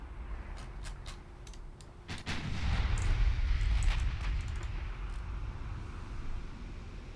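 Warship guns fire in Ultimate Admiral Dreadnoughts, a naval battle game with cruisers and destroyers: a string of sharp cracks early on, then a heavier booming roar that swells and rumbles on for several seconds.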